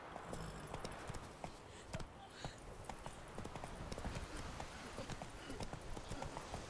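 In the video game Witcher 3, the horse Roach's hooves beat a quick, continuous clip-clop across the whole stretch, fairly quiet beneath a faint voice and game ambience.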